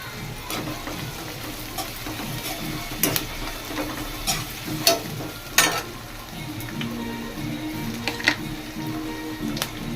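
Curry leaves sizzle in hot oil in a pan while cooking a raw banana curry with masala, a steady close frying hiss with occasional sharper crackles and pops throughout.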